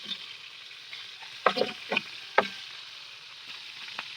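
Fish frying in a pan just after being flipped, a quiet sizzle broken by a few close clatters and scrapes from a spatula.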